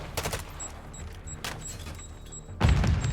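In a Call of Duty college match, sharp bursts of rapid gunfire crackle, then a grenade goes off in a deep, heavy boom that rumbles to the end.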